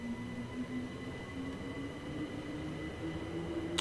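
A train in Train Simulator on the West Coastway line pulls away, its steady motor drone and rail rumble holding constant with a rising tonal whine, heard alone without talk.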